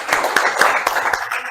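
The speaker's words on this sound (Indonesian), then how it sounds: "Kasih tepuk tangan dong." Applause from a classroom of students, a dense burst of many hands clapping together, loud and close, with no talking over it.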